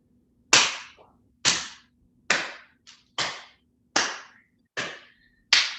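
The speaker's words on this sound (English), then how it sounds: "And going into some clapping. So clapping in front and behind." Seven sharp hand claps during a qi gong session, alternating in front of and behind the body, each crisp and well separated at a slow, steady pace, close and clear with near silence between them.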